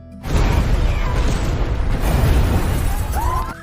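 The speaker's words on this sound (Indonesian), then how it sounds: "bom pun meledak" A loud, sustained blast of rumbling noise with crackling debris, like a bomb going off nearby, steady for several seconds before easing off.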